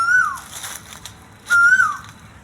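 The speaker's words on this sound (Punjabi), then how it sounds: "ਕੋਇਲ ਬੋਲ ਰਹੀ ਹੈ" An Asian koel calls from a tree, giving two clear, rising-then-falling whistled notes about a second apart, fairly close and loud over a quiet background.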